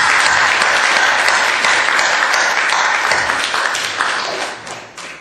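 A church congregation applauds the choir during a Sunday morning worship service, a dense, loud wave of clapping that holds steady and then thins out toward the end.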